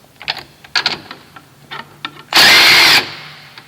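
A power tool loosens the bolt on a UTV shock absorber: a few short, sharp mechanical bursts come first, then one loud, sustained whine of roughly half a second, close up and alone.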